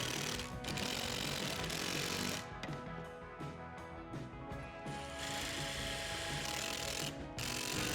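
A ratchet clicks rapidly as screws are driven into metal brackets on a sagging garage door, the mechanical ticking running in quick bursts with short pauses, close and fairly loud.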